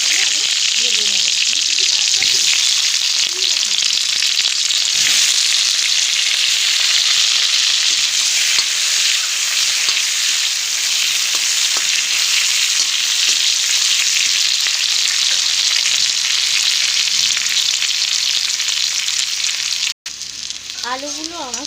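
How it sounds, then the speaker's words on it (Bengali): Potatoes fry in the hot oil left after frying eggs, a loud continuous close sizzle that holds steady with faint stirring, and a voice speaks briefly near the start and at the very end. "আলুগুলো দিয়ে আমি ভেজে নেব।"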